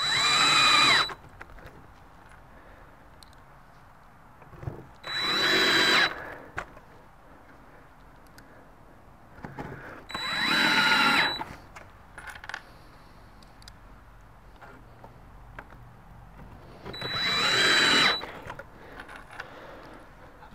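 A power drill drives screws into the wooden frame of a DIY cornhole board kit, firing in four separate bursts of about a second each, spaced several seconds apart, with quiet pauses between them.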